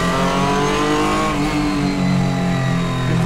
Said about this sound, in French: J'ai le moteur qui est juste derrière moi en fait, le V6